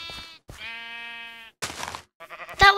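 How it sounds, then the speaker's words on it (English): Sheep penned in a Minecraft game, bleating in several short, loud, close calls separated by brief pauses, with no talking over them. "Shoved a couple of sheep in a pen there."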